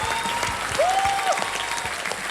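Studio audience applause on the Wheel of Fortune game show set, sustained energetic clapping, with a brief rising electronic tone sweeping over it midway.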